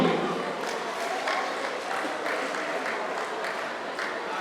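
Congregation at a funeral for an elder claps in praise of God, a continuous rhythmic patter of many hands heard at moderate distance.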